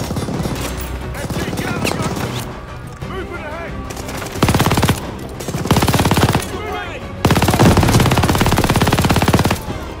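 MG42 machine gun fire in Call of Duty: Vanguard: loud, rapid sustained bursts of automatic shots in several long strings, with other gunfire and battle noise filling the gaps between them.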